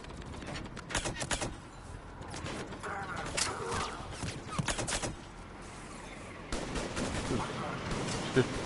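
Sharp, spaced pistol shots crack out in a Mass Effect 3 combat scene, several clustered early then scattered, over muffled battle noise and occasional game voices.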